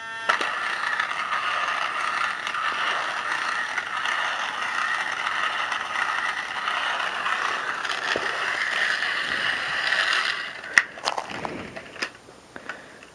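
Worn gears whirring and grinding inside a crawling toy army man, a steady mechanical buzz for about ten seconds, then a few rattling clicks as it slows and stops.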